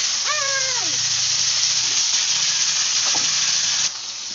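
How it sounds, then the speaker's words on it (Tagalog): Chicken pieces sizzle in hot oil in a frying pan, a loud, steady hiss running the whole time, opened by a brief sliding tonal chirp. "Prito ko po ng konti itong manok"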